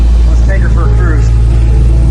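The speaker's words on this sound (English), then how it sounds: "Let's take her for a cruise." A 2019 Dodge Challenger Redeye Hellcat Widebody with over 800 hp pulls away, its deep steady engine rumble filling the clip under a faint drone, with no sharp revving peaks.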